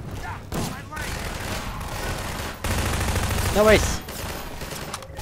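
Gunfire rattles through a firefight in Half-Life 2, with rapid bursts under excited player chatter and game voices.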